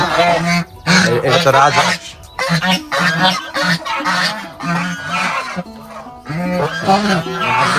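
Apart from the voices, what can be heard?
Chinese geese honking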